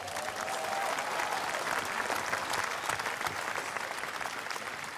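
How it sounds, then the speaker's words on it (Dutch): Audience applause at the National Remembrance of the Dutch slavery past, a steady wash of many hands clapping for the full five seconds, fairly even and moderately loud with no speech over it. "daar mag nog wel een applaus voor"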